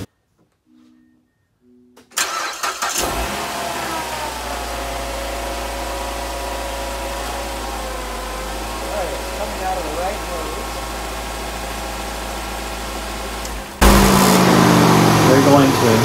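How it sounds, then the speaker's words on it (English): A Mazda3 sitting in park on jacks starts after a brief quiet moment, then settles into a steady, close idle hum, with a louder burst of engine noise near the end. "We're going to do that by starting the ignition."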